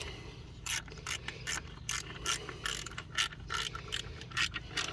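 A ratchet tightens the alternator bolts on a 2000 Subaru Legacy, making rapid, close clicking bursts in a steady rhythm of short strokes for the whole stretch, loud and with no talking.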